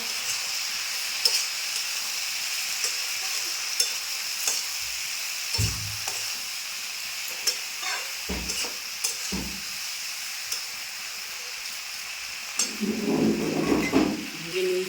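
Ginger paste, green chilli, chilli powder and cumin powder fry in a pan with a constant bright sizzle, punctuated by occasional stirring knocks and a burst of louder crackling toward the end.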